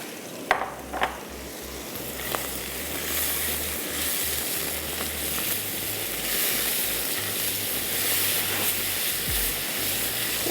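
Chicken in a garlic, salt and black pepper marinade frying in a pan, a steady close sizzle and hiss with a few early clinks, no talking.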